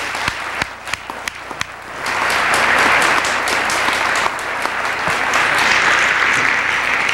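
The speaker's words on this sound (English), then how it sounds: "How about one more round of applause?" Lecture audience applauding, a few separate claps at first, then swelling into sustained, dense clapping from a large hall crowd that holds steady to the end.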